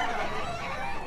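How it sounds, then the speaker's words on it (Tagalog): A wine red rooster at a fowl market in Bocaue gives a brief clucking call, close and continuous over about a second, with no talk over it. "Kagandang manok nito."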